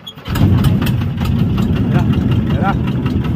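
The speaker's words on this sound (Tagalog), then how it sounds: "wala kang ibang maririnig dito kung hindi ang tunog ng makina ng bangka" A boat engine starts up and settles into a loud, steady rumbling drone close by, on a boat at Magat Dam in Ramon, Isabela.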